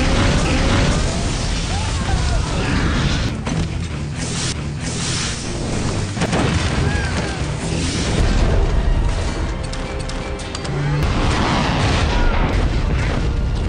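Explosions and gunfire from an Iron Man film scene boom and crack in loud bursts over a dense roaring bed of blasts and rumble, with sharp impacts scattered throughout.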